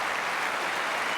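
A Wimbledon tennis crowd applauds, giving dense, continuous clapping that fills the space evenly, loud and sustained throughout with no voices over it.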